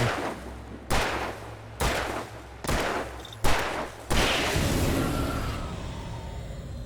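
Revolver gunfire in the video game Alan Wake Remastered: five sharp shots at a steady pace, roughly one per second, loud and close, with the last blast trailing into a long fading echo.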